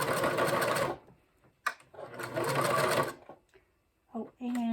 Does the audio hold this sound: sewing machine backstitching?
yes